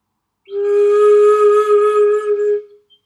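A single sustained flute note played with a straight head joint, clear and steady with a breathy edge, held for about two seconds and then fading out.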